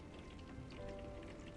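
Soft, steady rain patters continuously as a quiet, even hiss with faint scattered taps and no voices.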